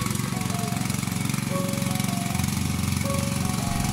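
A paddy rice transplanting machine runs in a muddy field, its small engine chugging in a steady rapid knock that stays close and constant throughout, with no talking.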